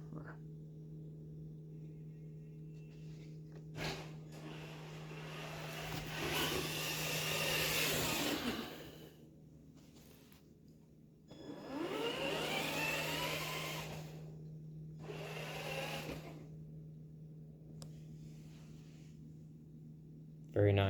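A Traxxas TRX4 2021 Bronco RC truck runs its electric motor on 3-cell power in high gear, several whirring bursts that rise and fall over a steady background hum, each lasting a few seconds, with quiet gaps between.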